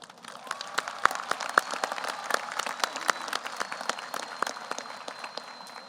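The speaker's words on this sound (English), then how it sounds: "I want to give another round of applause to each other and to the community of Hutto" Audience applause at the 2022 Hutto High School graduation, with crisp individual claps standing out against a continuous crowd patter and a few thin whistles, held at a moderate level throughout.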